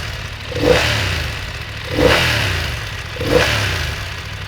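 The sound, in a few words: BMW F900R motorcycle engine revving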